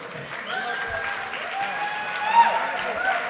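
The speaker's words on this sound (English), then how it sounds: "You don't have to stop clapping. You can keep going." An audience claps steadily after a panel on self-determination and sovereignty, dense applause at moderate volume with tonal whistles or cheers rising over it.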